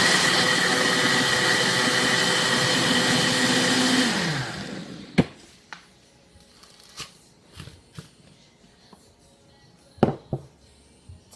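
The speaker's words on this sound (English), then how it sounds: "we'll put everything in the processor" A food processor blends a meatloaf mixture with garlic: a loud, steady whirring roar for about four seconds, then it cuts off, leaving a few scattered clicks and knocks.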